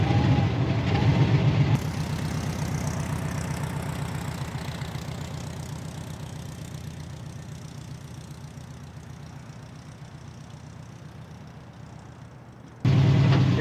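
A BMW 700 fitted with a swapped engine runs with a low, rough, uneven idle, then pulls onto the road. The engine note stays loud and steady, slowly fading as it drives, and surges again at the end.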